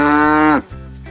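A cow gives one long, loud, steady moo that cuts off abruptly, leaving a quiet low background.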